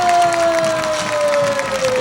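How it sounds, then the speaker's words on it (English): A large homecoming crowd at a high school football game cheers and applauds steadily as the teams run onto the field, a loud, continuous roar with a sustained horn-like tone over it. "we've got just a great crowd here tonight."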